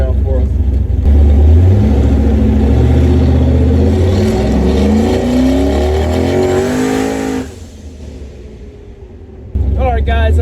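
A car with new GEN 3 44mm VSR wastegates revs hard during a burnout, the loud, close engine note climbing and falling in pitch for several seconds with tire noise, before dropping off and then picking back up.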